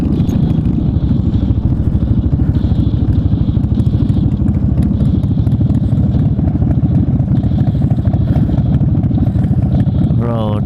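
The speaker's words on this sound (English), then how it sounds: "this is a cool motorcycle" A motorcycle engine drones loudly and continuously throughout, a steady mid-pitched roar with no breaks, heard up close as if while riding.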